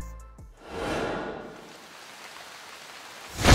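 Steady rain hiss in the Valheim game world, a broad wash of falling drops that swells early, holds evenly, then grows louder near the end, with no voices.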